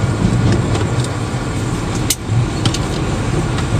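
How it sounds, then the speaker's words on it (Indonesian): Motorbikes and a small car edge past a big truck on a bridge, a loud, continuous rumble of engines and road noise close by, with no talk. "Motor-motor tertahan di tengah jembatan karena mobil kecil yang sebelah kiri itu susah sekali"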